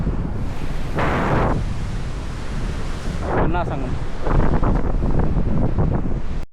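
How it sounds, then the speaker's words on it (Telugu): Sea waves roll in at the beach where the Penna river meets the sea, a rushing surf wash with heavy wind buffeting the microphone, and brief voices talking in between. "చూడండి సముద్రం ఎంత అలా పెరుగుతుంది"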